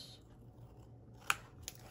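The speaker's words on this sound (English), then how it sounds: "let's get the scissors over here and let's miter our corners" Scissors cut paper to miter the corners of a handmade mini album. Two quick, crisp snips stand out clearly against a quiet room.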